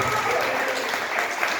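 An Assembleia church congregation claps loudly and steadily together, a dense, continuous wash of applause filling the hall.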